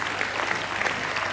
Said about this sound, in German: Und das ist Ihr Applaus